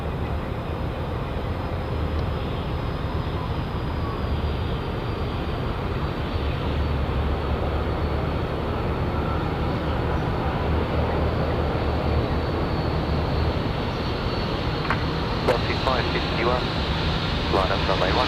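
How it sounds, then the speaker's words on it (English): An Emirates Airbus A380 arriving at Sydney Airport gives off a steady, broad jet roar that fills the whole span, heard from a spotting position with people talking over it. "The Emirates A380."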